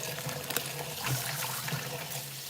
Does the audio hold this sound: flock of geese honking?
no